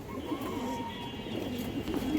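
A pair of colored pigeons coos softly and steadily at close range, a low continuous murmur with faint background hum and no talking.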